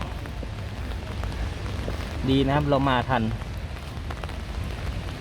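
Rain falls steadily on a cool day at the E-World amusement park in Daegu, South Korea, during its cherry blossom festival, a soft continuous patter with someone speaking briefly over it midway.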